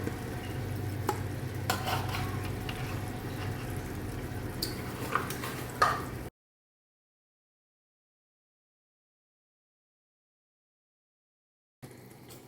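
Yogurt being stirred into chicken biryani masala as it fries in a pan, a steady close scraping and soft sizzle for about six seconds, then silence and a brief return of stirring at the end.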